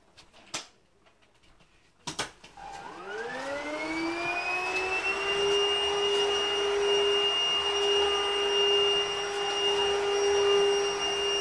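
Hoover vacuum cleaner indoors: two sharp knocks, then the motor starts up, rising in pitch into a loud, steady whine that holds to the end.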